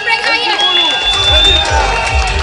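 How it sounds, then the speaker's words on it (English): Crowd at a local government political meeting in Montrose cheering and clapping for a candidate, a loud dense roar of shouts with whistling over a booming amplified background. "So give her a round of applause and bring her"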